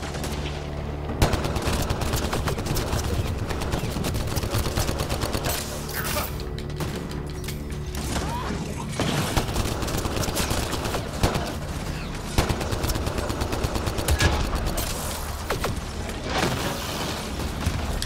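Sustained gunfire in the Mass Effect Andromeda video game, with rapid shots and bursts crackling over a battle din, under occasional shouted talk.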